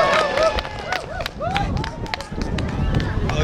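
An audience claps along at an outdoor busking show by an acoustic-guitar duo at Yeongrangho Lake in Sokcho, with steady hand claps under crowd voices and bright whistle-like tones.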